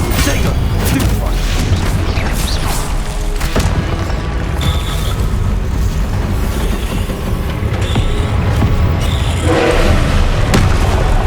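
Stunning spell blasts boom repeatedly in a loud Hogwarts Legacy battle, with thumping impacts layered over continuous music and combat noise, and voices calling out through the fight.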